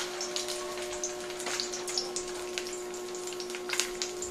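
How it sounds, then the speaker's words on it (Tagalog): Steady oil sizzle of smoked fish frying, with faint crackles and pops, fairly quiet and continuous, with a constant hum running underneath. "Prito natin ang ating smoked fish."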